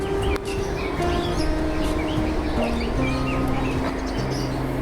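Chickens cluck and small birds chirp outdoors in Manila, with scattered calls over a steady low background hum.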